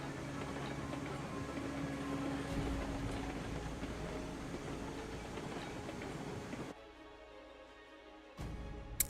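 A train rolls along in the railway video game Railroads Online, a continuous rumbling run with rail noise that drops out abruptly near the end before briefly returning.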